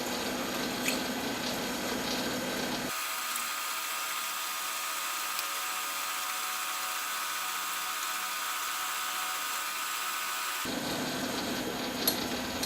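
A fluted cutter machines aluminum in a home shop, a steady high-pitched hiss and whir that runs for several seconds, broken by a long gap where the low rumble drops away, with no talk.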